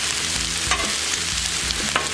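Bacon sizzles steadily on a Blackstone griddle outdoors in the wind, with dull repeated scraping knocks from a spatula and no talk.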